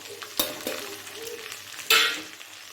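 Ground cumin, chilli powder, turmeric and salt being stirred with a hilsa fish head in a pan, with two soft scraping knocks early and one louder, longer scrape near the end over a quiet background.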